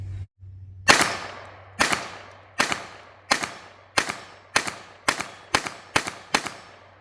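Ten sharp gunshots from a Ruger LCP II .22LR pistol firing CCI Standard Velocity 40-grain lead rounds, spaced under a second apart and speeding up toward the end, each crack loud and close with a brief decaying tail.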